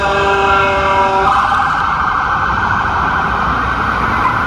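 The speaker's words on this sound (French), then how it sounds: "Ils font beaucoup trop de bruit, les policiers dans cette ville" Police siren wailing loudly on a city street in France, a steady two-tone wail with traffic rumble underneath, continuous and close throughout.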